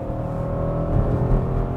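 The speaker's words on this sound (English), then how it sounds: "in RS2 mode, if you on full throttle, it will shift quite aggressively" A 2021 Audi RS6 Avant with an 8-speed automatic at full throttle in RS2 mode, a loud, close, steady engine drone building briefly inside the cabin.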